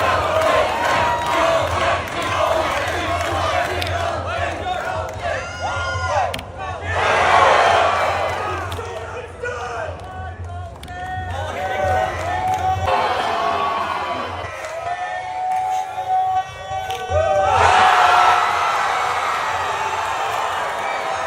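A crowd at a Popdarts national event erupts in loud cheering and whooping after the first tower hit on ESPN, with surges of roaring and chatter rising and falling throughout.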